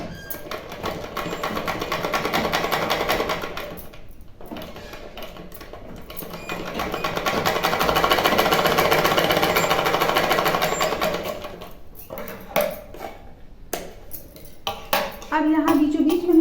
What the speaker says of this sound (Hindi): अब यहाँ एक सिलाई हम दे लेंगे।